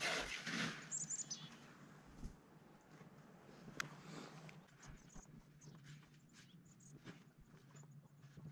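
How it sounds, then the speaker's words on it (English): Small birds chirp faintly outdoors in deep winter snow, with a brief cluster of high tweets early on and a few thin calls later, over quiet crunching movement and soft background noise. "The birds are cheering for you."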